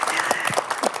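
Studio audience applause for a poet on a Korean broadcast talk program, a brief even patter of clapping, moderately quiet and without speech.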